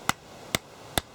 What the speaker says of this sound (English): just a bit of battening just to hammer it down, stop it from waving about